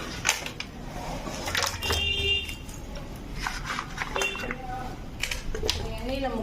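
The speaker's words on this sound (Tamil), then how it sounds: "இப்போ இந்த மாங்காவை எடுத்து எண்ணெயில் போட்டுக்கலாம்." Mango pieces for avakkaya pickle are dropped into oil in a bowl, giving repeated close clinks and clatters of fruit and utensil against the dish over a low background, with a voice now and then.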